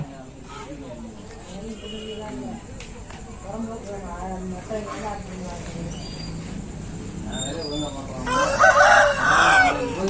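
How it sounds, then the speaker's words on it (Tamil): A rooster crows loudly near the end, following several seconds of background chatter and farmyard noise. "கரைஞ்சது கோழி."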